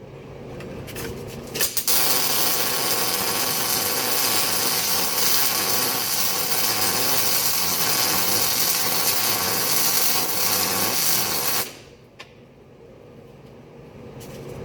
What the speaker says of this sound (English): So we're going to be welding